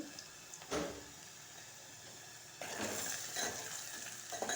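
Turmeric stirred into a curry frying in a pan, giving a soft continuous sizzle with quiet scraping stir strokes, louder in the second half.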